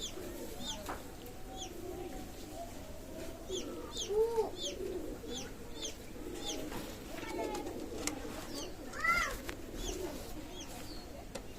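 Two male Pakistani Royal Teddy pigeons cooing near, with soft low coos and a few louder swells over a background of chirping birds.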